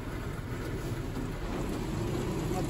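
Spray of Rain-X from a second-generation Ryko Radius automatic car wash, a dense, loud and continuous hiss of water and spray from start to finish.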